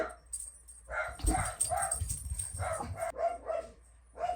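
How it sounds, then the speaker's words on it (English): Dogs barking somewhere down the street as someone walks them, a cluster of distant barks and yips repeating through the moment over low background noise. "I'm going to assume someone's walking their dogs down the street."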